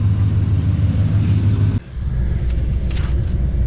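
A 2001 Chevy Silverado 2500 truck idles while warming up, a loud steady low rumble that drops abruptly partway through and then carries on as a quieter, rougher idle.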